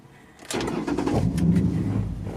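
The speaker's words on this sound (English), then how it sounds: "so we started the car with our FOB" A Ford Mustang engine cranks and catches after a brief quiet moment, started with a newly programmed key fob, then settles into a steady, close running rumble.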